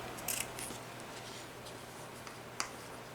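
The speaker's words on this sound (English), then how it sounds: "I like that little bow, so I'm going to cut the tails off" Scissors snip the tails off a small ribbon bow on an Easter craft, giving a couple of quick, faint clicks near the start and one sharp snip later, otherwise quiet.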